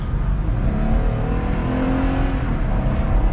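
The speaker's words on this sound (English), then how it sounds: "Getting up to speed with the V6," A 2022 Jeep Gladiator Mojave with its V6 engine accelerates steadily, a loud, continuous engine drone rising gradually in pitch, heard from inside the truck with no talking.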